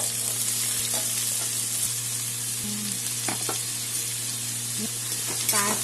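Chopped onions and onion paste with black cumin sizzle steadily in a pan, a close, continuous frying hiss with a few brief stirring scrapes and no talking.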